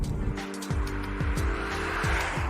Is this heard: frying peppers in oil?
no